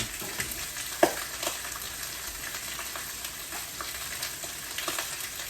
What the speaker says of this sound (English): Don't be sizzling and popping all over my brand new clean stove.